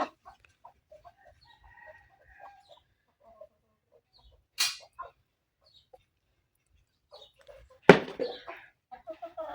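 Hens on a small chicken farm let out sparse, soft clucks and short calls scattered through quiet, with one louder squawk near the end, close and faint.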